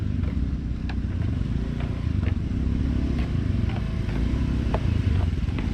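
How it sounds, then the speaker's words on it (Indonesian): Two cars rolling onto a wooden river raft ferry in Aceh Singkil, a steady loud engine rumble with scattered knocks and clatter of planks throughout, no talk. "Dua mobil masuk ya."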